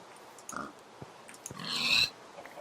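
Pig oinking in a video game, a few short grunts followed by a louder squeal near the end, brief and close, with no talk.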